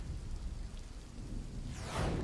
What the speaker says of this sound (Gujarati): બનાસકાંઠાના અમીરગઢમાં કરા સાથે વરસાદ વરસ્યો